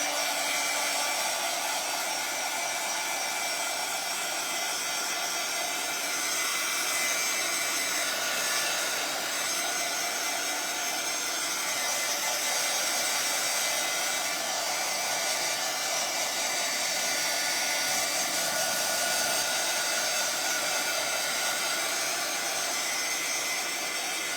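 A hair dryer blows steadily to dry paint on a handmade sunflower wreath, a loud, constant close-up whoosh running unbroken throughout with no voices.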